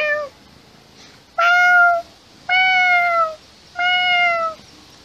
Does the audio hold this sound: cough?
no